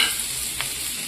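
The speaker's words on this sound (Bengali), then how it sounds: "ক্যাপসিকাম আর টমেটোটা ভাজা হয়ে গেছে" Green chili, capsicum and tomato frying in melted butter in a pan, giving a steady, even sizzle close by with one brief stir midway and no voices.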